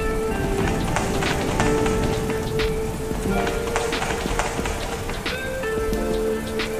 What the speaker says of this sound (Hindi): बारिश का पानी बढ़ता जा रहा है